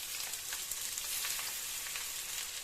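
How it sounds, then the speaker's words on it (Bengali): Potato pieces fry in hot oil for an egg potato curry, giving a soft, even sizzle with fine crackling pops throughout, fairly faint and with no voices. "এবার এই তেলের মধ্যে আলুগুলো আমি ছেড়ে দিচ্ছি।"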